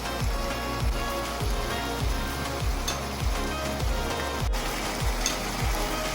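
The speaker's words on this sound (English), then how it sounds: "Cook the meat until most of the liquid is absorbed." Steady loud sizzling of meat frying in a pan with tomato paste, red chili powder, cumin, turmeric and coriander, broken by regular scraping stirs about every half second.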